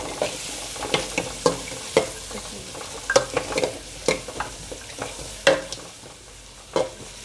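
Chopped onions frying in a pan for a grandmother-style chicken curry, stirred with a spoon that scrapes and clacks in irregular bursts over a steady close sizzle; no talking.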